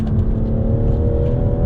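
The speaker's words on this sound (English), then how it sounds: "Responsive engine." A BMW M240i's B58 straight-six drones loudly and steadily under acceleration, a constant low engine hum filling the short stretch with no voices.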